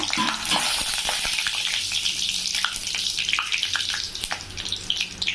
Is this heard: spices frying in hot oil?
yes